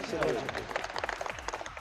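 Audience clapping at a public welcome event for an SDM in Hansi, dense applause trailing off into scattered claps, with voices in the background.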